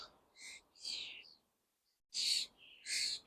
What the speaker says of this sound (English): Oh, look at all these birds.